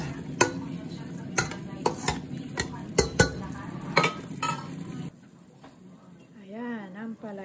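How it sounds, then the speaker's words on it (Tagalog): Shrimp cook in a pan ahead of bitter melon, with repeated sharp clinks of a utensil stirring against the pan over a low sizzle before the scraping stops and a voice speaks near the end. "Tayo natin maluto yung mga hipon bago ilagay yung ampalaya."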